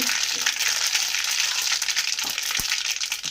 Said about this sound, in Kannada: ಈಗ ಸಾಸಿವೆ ಹಾಕ್ಕೊಳ್ಳೋಣ.